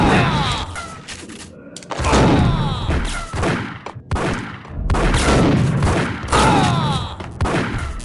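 Bursts of gunfire from the Max Payne video game come in several loud clusters of rapid shots and thumps, with brief quiet gaps between volleys.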